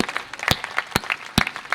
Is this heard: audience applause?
yes